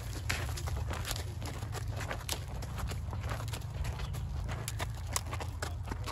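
Hooves of a miniature horse being ridden clip-clop in a steady, close rhythm, with no talk over them.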